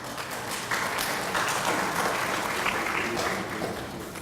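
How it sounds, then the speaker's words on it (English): A school audience applauds throughout an elementary D.A.R.E. graduation ceremony, a dense, steady wash of many hands clapping that stays loud for several seconds. "We will clap."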